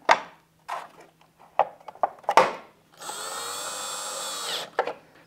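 A power tool drives fasteners to reinstall the plastic side plates on a Minn Kota Ulterra quick release trolling motor bracket, with one steady whirring run of about a second and a half between several close clicks and knocks.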